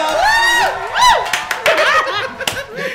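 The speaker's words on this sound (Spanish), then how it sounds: "¡Un aplauso!" A studio audience cheers and claps briefly after a guest is introduced, a short burst of shouts and scattered applause mixed with voices and laughter.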